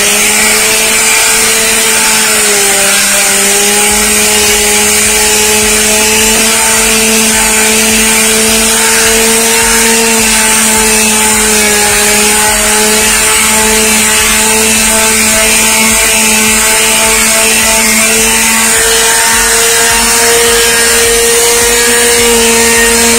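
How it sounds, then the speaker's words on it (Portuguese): A power sander runs steadily and very loudly at close range while restoring an American Mercury 15, its motor holding a constant whine that wavers slightly in pitch as pressure on the work shifts, with no talking. "Agora a gente vai começar a lixar."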